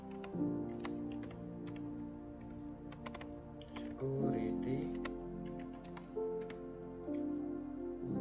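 Computer keyboard typing while a network switch port-security configuration command is entered, a run of quick, uneven key clicks over a steady background hum with faint tones.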